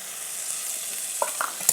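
Turmeric, chili and cumin powder frying in a pan for aloo dum, a soft steady sizzle with a few light stirring scrapes near the end.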